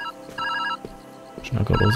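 A telephone rings inside the video game Viewfinder, clear repeated electronic ringing tones in short bursts, followed by louder low-pitched sound at the end.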